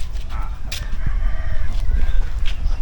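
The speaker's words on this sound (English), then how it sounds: "Whoa, look at these big chickens in here, Mal." Large farmyard chickens clucking close by, with a rooster's crow breaking through at moments, a steady busy run of bird calls over low outdoor rumble.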